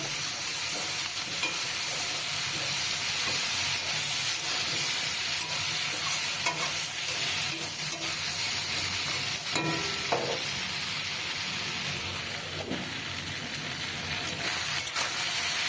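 Okra and potatoes cook gently in a pan over low heat, giving a constant soft sizzle with occasional utensil scrapes and stirring, close and with no speech.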